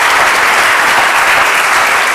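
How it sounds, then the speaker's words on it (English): Dense, loud applause from a conference audience fills the hall, a steady wash of many hands clapping together without pause and with no voices over it. "this clapping's going to take us a while"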